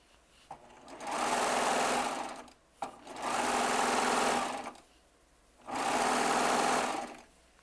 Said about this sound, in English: One thing I love about piecing quilt tops on a serger